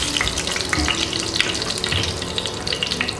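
Fennel seeds, cumin and curry leaves crackle and spit in hot oil as they are stirred, a dense close-up sizzle with busy popping and light scraping throughout.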